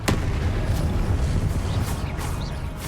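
The Confringo blast spell in the Hogwarts Legacy video game, a sharp crack at the start followed by a sustained rumbling, crackling roar that stays loud and dense throughout.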